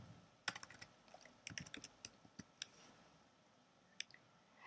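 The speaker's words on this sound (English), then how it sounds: "one way to do that is just open a terminal window and type" Typing on a MacBook keyboard: a quick run of soft, close key clicks with uneven spacing and a couple of isolated taps afterward, faint over a low room hiss.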